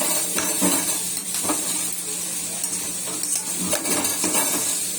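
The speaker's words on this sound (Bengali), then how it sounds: "এখানে হচ্ছে কলমি শাক ভাজা" Water spinach frying in a pan, a steady sizzle under repeated metallic clinks and scrapes of a spatula against the pan, close and fairly loud.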